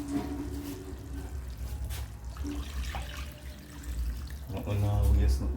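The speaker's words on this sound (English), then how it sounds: "So I'm going to add the water from my blender, which I blend the wet rub season." Seasoned water from a blender, left over from blending a wet rub, is poured into a pot of Jamaican curry chicken back, a soft liquid trickle and splash heard faintly beneath a person talking.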